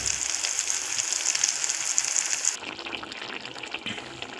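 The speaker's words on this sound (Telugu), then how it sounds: "మన గుత్తొంకాయ ఉల్లికారం నూనెలో ఎగుతా ఉన్నది" Stuffed brinjal in an onion and chilli masala fries in hot oil, giving a steady, faint sizzling hiss that carries on alone, changing character and softening partway through.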